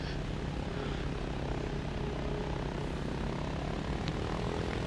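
A propeller aircraft engine drones steadily while taxiing in the IL-2 flight-sim game, a constant low rumble with no talk over it.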